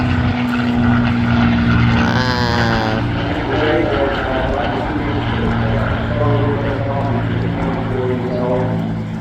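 A propeller aeroplane drones loudly and continuously overhead at the Eastbourne Airshow, its engine note wavering as it passes, while people talk nearby throughout.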